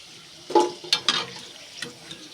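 Fuchka puris frying in hot oil give a soft sizzle with a few sharper bursts and stirring clatters as they are turned, several quick bubbling spikes over a quiet background with no talking.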